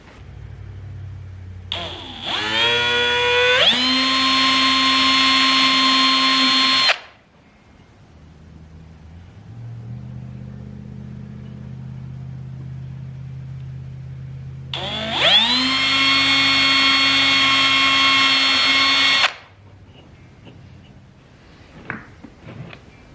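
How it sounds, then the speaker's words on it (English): A power drill whines up to speed and runs steadily for several seconds drilling holes in oak, stops, then a second burst of drilling follows after a pause with low background hum. "The first thing we've got to do is drill our holes."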